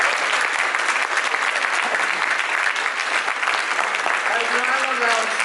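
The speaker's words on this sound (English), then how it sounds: "Can we have a round of applause for the cannabis lawyers?" Sustained audience applause from a crowd at a cannabis business conference in Eugene, Oregon, steady dense clapping throughout, with a voice briefly rising over the noise near the end.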